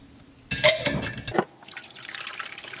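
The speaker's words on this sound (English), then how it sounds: "Now I'm going to add grow nutrients." Liquid grow nutrients poured into clean water to prepare a spirulina culture medium, a short close splashing trickle followed by a softer steady hiss of water settling, alone with no voices.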